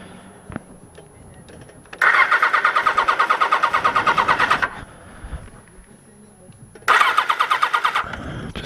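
A Kawasaki GPz900R motorcycle cranks in two loud bursts of rhythmic starter churning, a few seconds each with a pause between, and the engine does not fire.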